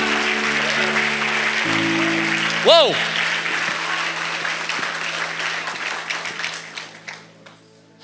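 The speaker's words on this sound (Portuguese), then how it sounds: "aplauda Ele o mais alto que você puder." A church congregation applauds loudly and steadily during a conference sermon, with a sustained keyboard pad beneath, a single voice shouting once over the clapping, and the applause fading toward the end.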